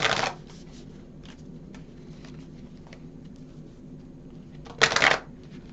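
A deck of moon cards being shuffled nearby, with a brisk riffle at the start and another near the end, separated by quiet rustling and soft handling taps.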